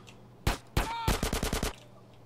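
Rapid bursts of GTA San Andreas gunfire: a few single shots followed by a quick string of about six evenly spaced shots, loud and close.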